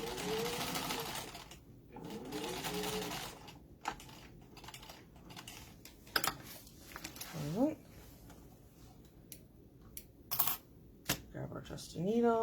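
A sewing machine top stitches a card slot panel in several short runs, its rapid mechanical whirring rising and falling between pauses, with a person talking between bursts.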